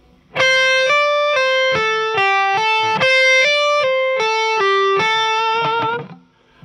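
Distorted electric guitar plays a slow pentatonic legato line with hammer-ons and pull-offs, each note clearly separated in a steady stepping pattern, close and loud with no talking.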